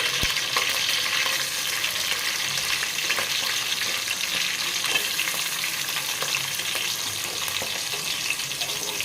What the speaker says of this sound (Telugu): ఈ ఎర్రగడ్డలన్నీ బాగా వేగాలండి. చూడండి, ఈ విధంగా కలబెట్టుకుంటూ ఉండాలి.